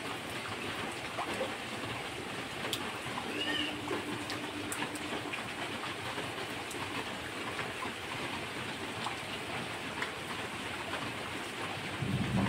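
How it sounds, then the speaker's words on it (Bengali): Thunder rumbles low and long through a steady, hissing wash of rain-soaked outdoor noise on a waterlogged street, the storm sound continuous without any voices. "তাও বাবা যা মেঘ ডাকছে, গুরুম গুরুম করে মেঘ ডাকছে"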